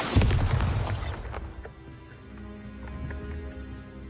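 Bombarda blasting spell going off in the Hogwarts Legacy video game, one loud burst near the start that decays into a low rumble and fades out.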